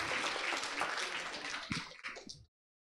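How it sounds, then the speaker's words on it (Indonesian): Audience applause at a high school workshop on Industry 4.0 digitalisation, dense clapping from a roomful of people that tapers into a few scattered claps and stops abruptly. "Ya tepuk tangan buat teman-teman sekalian."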